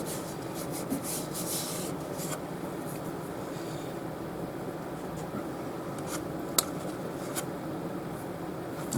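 Hand-sanding epoxy on a workbench produces a steady, continuous rasping rub, close and even in level, with a few faint knocks and scrapes along the way and no talk.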